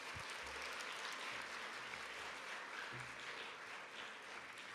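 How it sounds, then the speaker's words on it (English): An audience at a school chapel assembly applauds, giving a soft, steady patter of many hands clapping that stays fairly faint and even throughout. "Let's give her a round of applause."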